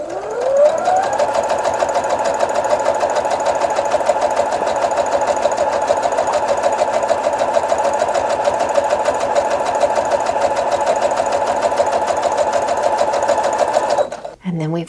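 A sewing machine runs steadily for about fourteen seconds, stitching a scrap fabric string block with a quarter-inch seam, close and loud before stopping abruptly near the end.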